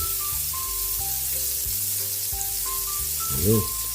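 Butter and garlic sauté in a pan with a steady, close sizzle and hiss while background music plays underneath.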